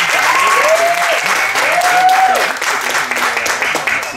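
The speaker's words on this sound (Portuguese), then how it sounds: "Vamos receber com muita salva de palmas o André Musco." A crowd at a church panel event on diversity and gender gives warm, sustained applause to welcome a speaker, with an amplified voice ringing out over the clapping.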